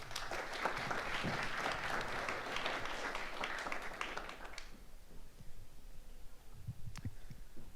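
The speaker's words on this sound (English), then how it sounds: "Please give a round of applause as he gets going." Audience applause for a speaker at a Grin crypto conference, a dense wash of clapping from a crowd lasting several seconds before fading out, followed by quiet room noise and a few scattered sounds.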